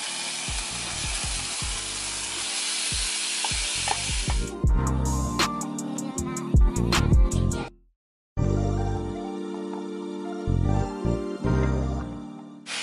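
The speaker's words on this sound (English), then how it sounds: "Next, I'm adding in a tablespoon of minced garlic. And then I'm gonna add in my steak." Steak searing with minced garlic in butter in a pan for a home hibachi dinner: a loud, steady sizzle with clinks and scrapes of a utensil, a brief silent break, then the hiss resumes strongly.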